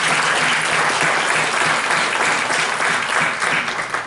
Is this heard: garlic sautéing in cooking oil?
no